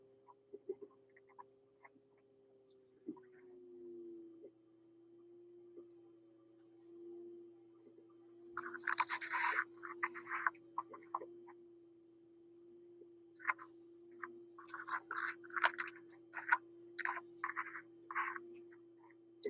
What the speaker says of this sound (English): I'll keep scraping till I've got every little bit out